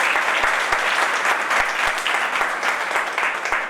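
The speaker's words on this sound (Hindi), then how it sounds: "उनके लिए एक बार जोरदार तालियां बजाएं" An audience at a felicitation event gives teachers a sustained round of loud, dense applause, many hands clapping together continuously with a few sharper individual claps standing out near the microphone.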